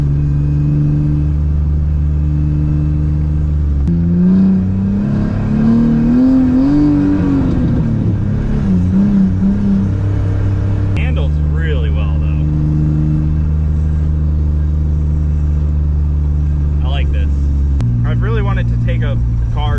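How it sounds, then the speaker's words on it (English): A raspy V6 engine in a Nissan S14 drones loudly, rising and falling in pitch as it revs, with someone talking over it at times. "You just get this like raspy V6 that sounds like it's a smoker."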